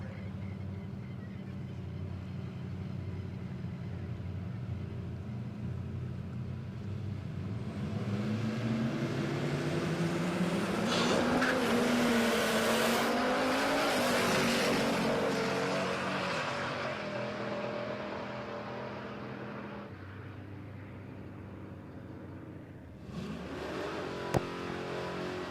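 A Holden Pintara wagon makes a drag racing pass at Palmyra Raceway. The engine roar builds steadily, peaks loud in the middle, then fades into steady background rumble, with a short sharp knock near the end.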